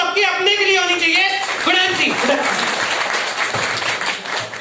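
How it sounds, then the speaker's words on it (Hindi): Audience applause at a business seminar builds under a speaker's raised, drawn-out voice, then continues as a dense crowd clapping once the talk fades. "एक जोरदार तालियां आप सबके अपने के लिए होनी चाहिए"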